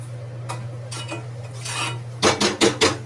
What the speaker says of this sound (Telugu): మనం జాగ్రత్తగా మొత్తం అంతా కలుపుకోవాలండి కొన్ని చోట్ల మనకి కలవదు కదా సో ఇలా కలుపుకొని ఉండలు లేకుండా